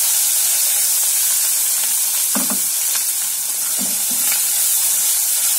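Garlic sizzling hard in hot oil with fenugreek and asafoetida, a loud, steady, close frying hiss with a few soft stirring knocks underneath and no talking.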